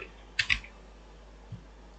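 Typing code on a computer keyboard: a few quick key clicks in a short burst, then a single soft tap after a pause, close and fairly quiet against a faint background hiss.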